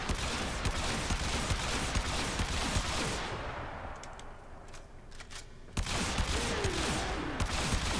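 The Tombfinger pistol firing in the video game Warframe, with dense, rapid bursts of gunshots that pause briefly before the fast shooting resumes, loud and up close.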